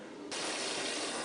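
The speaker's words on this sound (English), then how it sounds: "the rest we rinse out with our hose here" A garden hose rinsing out homebrewing equipment, the water surging suddenly to a steady, strong gush that splashes continuously, close and alone.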